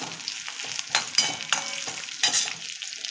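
Ginger and pieces of dried copra coconut are sautéed in a pan, a soft continuous sizzle broken by scraping stir strokes at an uneven rhythm, heard close with no talking.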